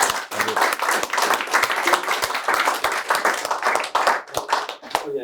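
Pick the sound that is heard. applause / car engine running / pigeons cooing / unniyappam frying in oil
applause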